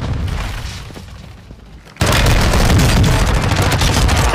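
Airstrike explosions in Warzone 2.0 Resurgence, a quieter rumble giving way at two seconds to a sustained, loud barrage of booming blasts and crackling gunfire that continues without a break.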